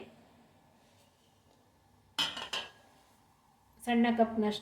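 Metal utensils and a vessel clink and clatter in two short bursts as grated coconut is added for an okra sambar, with quiet gaps between.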